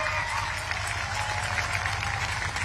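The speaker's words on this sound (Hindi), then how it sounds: "ताली बजाओ सभी लोग" Crowd applauding at a large public rally in Santirbazar, Tripura, a steady, dense wash of clapping that holds evenly throughout, with a low rumble of the gathering underneath.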